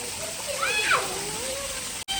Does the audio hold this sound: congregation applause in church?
no